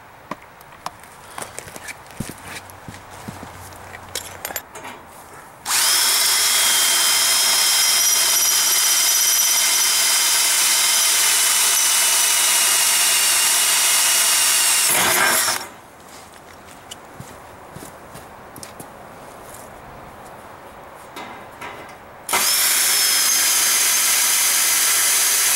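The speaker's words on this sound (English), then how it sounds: "let's drill some holes" A power drill bores holes in EMT steel conduit for a homemade snow roof rake. Two long, loud steady whines of drilling are heard, separated by a quieter stretch of handling clatter.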